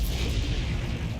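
An Incendio fire spell is cast in the Hogwarts Legacy video game, heard as a loud, dense, rumbling whoosh-burst of magical flame that stays full and booming throughout the brief moment.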